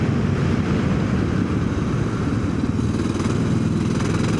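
A carbureted Suzuki DR650 dual-sport motorcycle chugs along a dirt trail with a steady, low, throbbing single-cylinder rumble that stays close and loud throughout.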